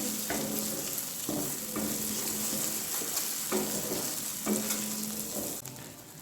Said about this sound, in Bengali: এভাবে কিছুক্ষণ কষিয়ে নেব সর্ষেটা।